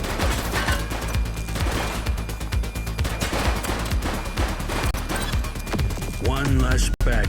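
Sustained gunfire in the police video game The Precinct, a loud, rapid stream of shots and impacts with a shouting voice near the end.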